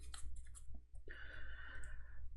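Deck of game cards for the Earthborne Rangers board game being shuffled, a brief run of soft clicks giving way to a steady riffling whir that lasts over a second, close and quiet with no talking.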